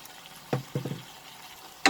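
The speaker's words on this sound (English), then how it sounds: "Now I am going to add the green peas" Green peas drop into masala in a pan for a cabbage and peas dish: a few soft close patters and a brief sizzle, ending with one sharp scrape or clatter, no talk.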